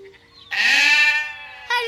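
A cartoon sheep lets out one long, loud, wavering bleat, up close and clear, with another bleat starting right at the end.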